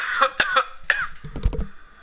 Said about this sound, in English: stop coughing for a second.